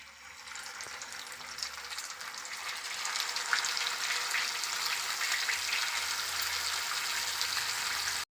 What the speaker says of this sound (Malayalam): അടുത്ത ബാച്ച് ചിക്കൻ വറുത്തെടുക്കാം